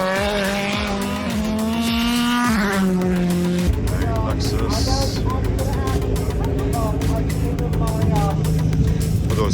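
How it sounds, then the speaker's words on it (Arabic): NASCAR race cars at the Goodwood Festival of Speed 2022 roar past at close range, loud engine notes rising and shifting pitch as one car passes and another follows with a harsh, raspy growl, while people talk in the background. "هدول سيارات ناسكار"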